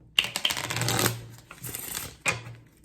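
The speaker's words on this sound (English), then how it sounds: "I'll shuffle one more time." A deck of playing cards is shuffled, giving a quick riffling burst followed by a few more rapid flutters and taps, close and fairly loud with no talking.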